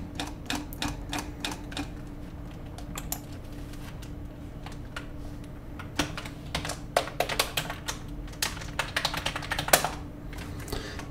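Keystrokes on a computer keyboard as a password is entered, a steady run of clicks that grows busier and louder toward the end, alone with no talking.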